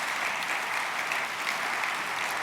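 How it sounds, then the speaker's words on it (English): An audience at the Siemens keynote at CES 2024 applauds, a dense, steady wash of clapping that holds at an even level throughout, with no voices over it. "please give a huge round of applause for Yoshi"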